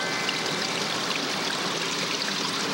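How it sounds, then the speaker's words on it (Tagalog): Water from a spring welling up out of the ground and running into a stream, a steady continuous trickling and gurgling flow, close and fairly loud with no voices. "sa bukal lumalabas ang tubig na nagmumula sa ilalim ng lupa at dumadaloy papunta sa batis"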